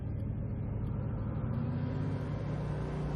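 Bugatti Veyron 16.4 Grand Sport Vitesse driving along, a steady deep engine drone and road rumble filling the cabin, continuous and fairly loud with no talking.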